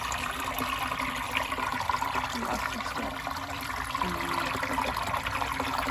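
Creek water flowing steadily outdoors, a continuous broadband rush and trickle with no pauses, fairly close and even in level.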